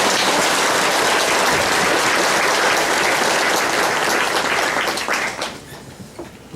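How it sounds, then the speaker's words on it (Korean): A church congregation applauds during a Sunday service, sustained loud clapping from a large crowd that tapers off and thins toward the end. "우리 하나님께 영광의 박수를 올려드리겠습니다"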